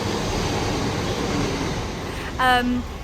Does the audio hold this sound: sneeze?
no